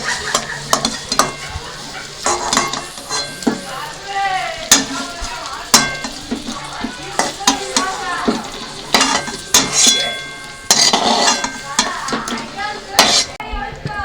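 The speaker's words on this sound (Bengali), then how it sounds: "ফুলকপিগুলো ভালো করে দইয়ের মধ্যে মিশিয়ে নিচ্ছি" Fried cauliflower stirred into whisked yogurt with a utensil, repeated scraping and clinking strokes against the bowl in an uneven rhythm, close and fairly loud, with soft wet squelching between strokes.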